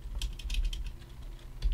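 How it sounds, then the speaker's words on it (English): Close, quiet clatter of keys being typed on a computer keyboard, a quick irregular run of clicks that pauses before one last tap. "I'm just going to type"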